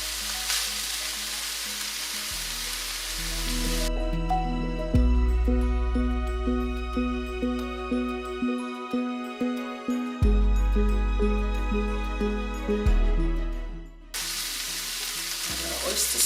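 Eggplant, pork and green beans stir-fry in a pot, sizzling loudly at the start and end, with music playing over the middle.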